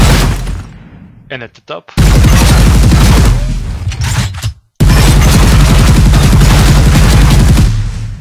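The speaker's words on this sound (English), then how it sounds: "if we shoot down the pieces on the bottom" Heavy gunfire and crumbling debris as reinforced concrete pieces are shot apart in an Unreal Engine 4 destructibles demo, loud sustained bursts in two long volleys separated by short pauses, with a voice speaking under the noise.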